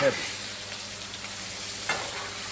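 Chicken wings and peppers sizzle on an outdoor grill, a steady close frying hiss with a brief clatter at the start and a soft scrape partway through as the pieces are rolled around.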